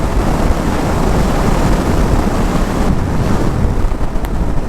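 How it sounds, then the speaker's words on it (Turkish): Loud buffeting wind roars against the microphone in a constant rush, the gusty blast of riding a KTM 390 motorcycle at speed in highway traffic, with no talk. "Bayağı bir rüzgar var."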